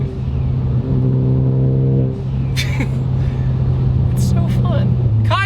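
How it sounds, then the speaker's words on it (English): Ford Focus ST with an upgraded big turbo revving loudly under acceleration, then loud hissing blow-off valve bursts and whooshes between gear changes while the engine drones on close by. "So the tile blow-off valve in this too is very conversational. It makes a lot of noise"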